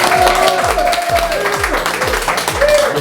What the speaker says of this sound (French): Je vous demande un tonnerre d'applaudissements pour Monsieur Géraldin, s'il vous plaît.